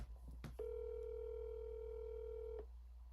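A quick burst of phone dialing tones gives way to a long, steady ringback tone from an unanswered call, clear and alone against faint background hum.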